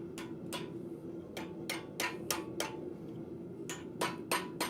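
Steady ringing hammer blows strike a metal bar held in a vise at a blacksmith forge, roughly a dozen sharp strikes in uneven clusters, fairly quiet against a low shop background.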